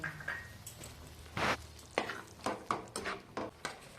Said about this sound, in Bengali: মশলা বেটে নেওয়া যে জলটা ছিল ওটা দিয়ে কষিয়ে নেব